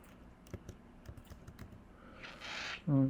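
Keystrokes on a computer keyboard tapped out in a quick irregular run of clicks, close by, followed by a brief louder burst of other noise at the end.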